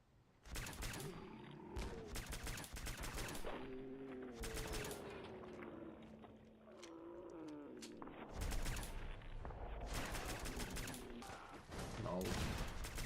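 Gunfire and missile launchers in the video game Fallout 4 keep up a dense, loud stream of rapid shots and blasts, with shifting pitched whines from weapons or effects running throughout.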